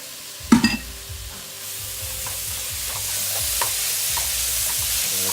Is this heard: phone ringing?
no